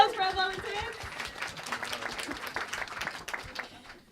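An audience at a science slam claps and cheers for volunteers, a dense burst of applause that slowly thins out over a few seconds.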